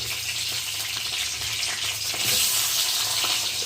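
Vegetables frying in oil in a pan, a steady, close sizzle that holds through the clip and grows a little louder toward the end, with no talking over it.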